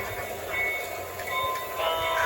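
A model train departs with a continuous rattling whir and faint high whistle-like tones, steady and growing slightly louder as it moves off.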